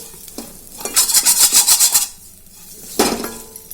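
A spoon scrapes and stirs tomato besan curry in a pan, a quick rhythmic series of scraping strokes over a soft sizzle, then a pause and one more short stir.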